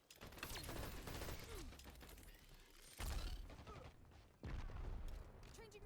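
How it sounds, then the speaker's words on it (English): Magazine reload in the online shooter Dirty Bomb: a busy run of mechanical clicks and metallic clacks, with sharp loud transients near the middle and end, over dense, continuous game noise. "Changing mag."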